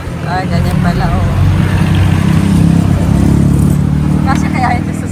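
A car engine revving nearby, a loud sustained rumbling drone that swells through the middle, with people talking over it.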